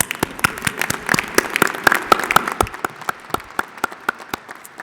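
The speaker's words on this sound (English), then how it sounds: "Applause, please." At a social work school commencement, an audience claps in a short, lively round: a cluster of sharp, distinct claps that thickens briefly and then thins to a few scattered hand claps.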